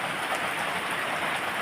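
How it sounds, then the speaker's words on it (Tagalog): Heavy rain pours steadily onto surfaces, a dense, continuous hiss close by with no voices. "lakas talaga ng ulan"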